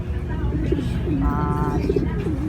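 Racing pigeons coo softly and close by during a flying session, their low calls partly under someone talking.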